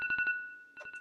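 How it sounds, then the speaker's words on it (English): A phone timer alarm goes off with a quick run of four electronic beeps, a short pause, then more beeps. The tones are fairly quiet in a silent room. "There's my timer!"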